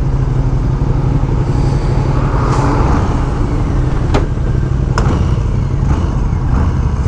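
A group ride of motorcycles, including a Low Rider S, rumbles along a small restaurant street in a steady, loud, continuous engine drone, with a few brief sharper accents on top.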